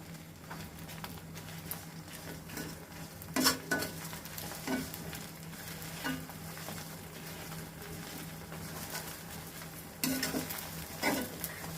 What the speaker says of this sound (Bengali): এই দেখুন সব জিনিসগুলা কেমন সুন্দর ভাজা ভাজা হয়ে গেছে।